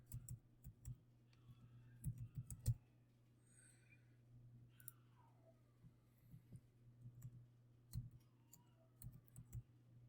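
Someone types on a computer keyboard while filling in text fields in Autodesk Inventor: faint, quiet clusters of key clicks, a quick burst at first, then sparser scattered taps over a low background hum.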